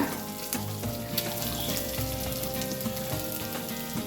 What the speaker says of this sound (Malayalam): ആദ്യം നമുക്ക് ഈ തേങ്ങ ഒന്ന് വറക്കാം